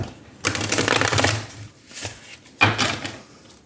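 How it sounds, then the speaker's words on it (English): A tarot deck is shuffled close up in two riffling bursts, a long crisp flurry followed by a short pause and a second flurry. "I'm going to first shuffle your cards"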